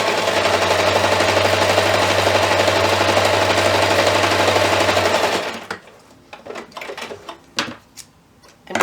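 Close and loud, a sewing machine stitches a 1.5 inch fabric piece onto mesh for a DIY first aid kit in a steady, fast, continuous run of about five seconds, then stops for quieter fabric handling and small clicks.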